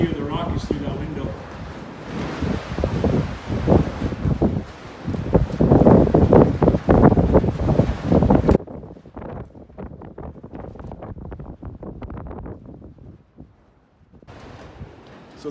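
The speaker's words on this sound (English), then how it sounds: "Windy today, really windy." Strong wind buffets the microphone at an outdoor home framing site, with gusty broadband roaring that swells loud for several seconds, then drops to quieter rustling while someone talks.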